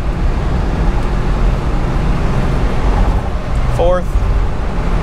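A 1989 Ford Mustang convertible pulling steadily in third gear, its engine and road noise forming a loud continuous drone, with a brief squeaky chirp near the end.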